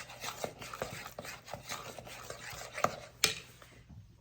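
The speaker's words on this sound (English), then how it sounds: "Okay, so we're gonna stir that all in." Sugar being stirred into a sourdough bread mixture in a bowl: a close, steady scraping of spoon against the bowl, with a couple of sharper clinks near the end and no talk.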